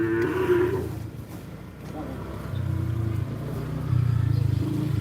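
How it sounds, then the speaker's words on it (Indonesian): Cattle at a Kerapan Sapi bull race give low, drawn-out moos, several in a row, against a continuous engine-like hum and crowd ambience. "Ada sapi yang mau dilepas."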